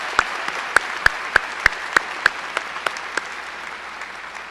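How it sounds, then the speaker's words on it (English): Graduation audience at a Fox Senior High School ceremony clapping, heard as a string of sharp, regularly spaced loud claps over a soft background murmur of a large hall. "Give yourselves a huge round of applause."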